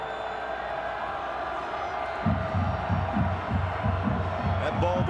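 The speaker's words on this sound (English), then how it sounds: "Crowd raucous, and this time we're underway." A raucous crowd roars at a Washington State versus Washington college football game on a cool, windy afternoon, building into rhythmic chanting or stomping pulses partway through, with voices under the noise.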